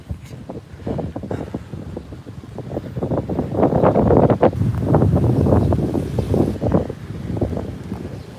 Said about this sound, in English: And then it won't be so windy once I sit down.